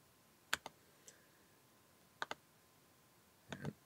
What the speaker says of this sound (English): And type in a password. And click save to that.